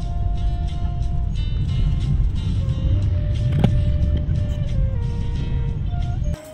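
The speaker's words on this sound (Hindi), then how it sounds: "ये देखो बहुत ही ट्रैफिक जाम हो रहा है आज।" Evening traffic jam in the Akashdeep area of Itanagar, heard from inside a car: a steady low road rumble with idling engines and a brief sharp sound near the middle, continuous throughout.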